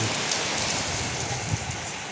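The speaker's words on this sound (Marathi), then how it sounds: "पाऊस चालू झालेला आहे" Steady rain falls and patters on surfaces nearby, a constant even hiss with occasional heavier drops.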